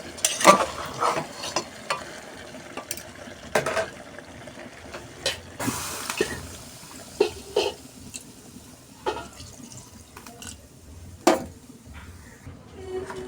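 Beef fries in a pan with garlic added, crisp scraping stir strokes hitting repeatedly in an irregular rhythm over a low sizzle, close and fairly loud.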